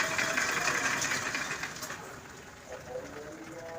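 Electric water pump motor running, giving a steady, continuous mechanical whirring hum with a slight rattle that holds at moderate level throughout, with no talking.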